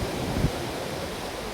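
Strong sea waves crash and roar close by during a rough boat outing, a loud, steady wash of surf and wind noise with no talk.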